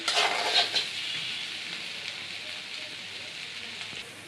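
Okra, eggs and potato frying in hot oil, giving a steady close hissing sizzle that fades slightly over a few seconds, with a few brief louder crackles at the start.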